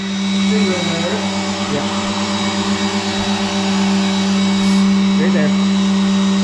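A big block Chevy engine having its oil system primed: a steady, loud mechanical whine and drone runs throughout, with someone speaking briefly over it.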